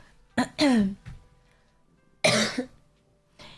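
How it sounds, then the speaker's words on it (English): A person coughs several times in a row, two harsh clustered bursts and a later loud cough with throaty rasp, close and clear against a quiet room. "just hearing someone cough and be all sniffly"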